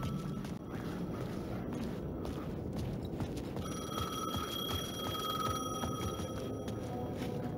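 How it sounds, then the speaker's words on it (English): A telephone rings in Alan Wake 2, a repeated electronic bell tone entering partway through over a dark, rumbling ambient game soundscape. "Phone was ringing."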